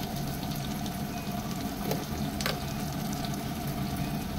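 Cumin seeds fry in oil while a spiced mixture for chitol fish dumplings is made, a low steady sizzle with a couple of faint sharp ticks, heard at a moderate distance.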